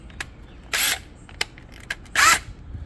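A number 6 bit goes into a drill chuck with two loud, close bursts of ratcheting, whirring chuck rotation and scattered small clicks between them, with no speech.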